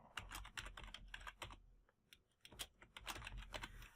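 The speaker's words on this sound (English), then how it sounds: "So I can go ahead and type that in here." Quick, close typing on a computer keyboard, with rapid clustered key clicks, a short pause in the middle, then another fast burst of keystrokes.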